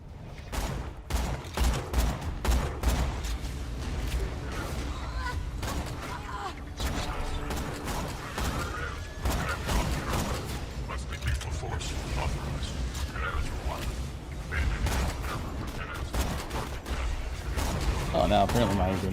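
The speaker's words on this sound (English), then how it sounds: "Oh, now apparently my grenade launcher is good." Dense barrages of explosive grenade-launcher fire and impacts in a video game battle, continuous and loud throughout, with heavy low booms layered under a chaotic mix of combat sounds.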